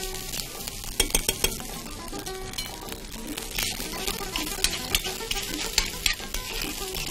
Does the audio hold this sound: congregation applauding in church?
no